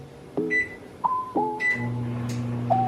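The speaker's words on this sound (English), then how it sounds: "we're gonna melt these in the oven. I mean in the microwave." A microwave oven hums steadily with a low drone, punctuated by several short electronic beeps of its keypad at the start.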